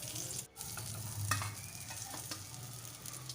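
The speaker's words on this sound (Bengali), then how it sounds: "মাছগুলো আমার সব ভাজা হয়ে গেছে, এবার এই মাছগুলো এক এক করে তুলে নেবো বাটিতে।" Rohu fish frying in hot oil in a pan for a Bengali-style dish, giving a steady close sizzle with occasional stirring scrapes and no talking.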